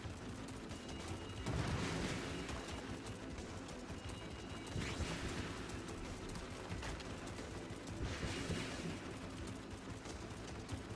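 Missiles and gunfire in the space shooter game Vostok Inc., heard as a dense, continuous barrage of small pops and blasts with a few louder bursts rising above a low rumbling background.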